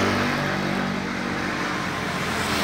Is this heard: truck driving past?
yes